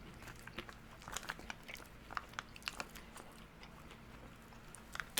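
Muesli from an Australian CR1M ration is chewed up close, with soft crunchy bites and mastication clicks repeating quietly over a few seconds.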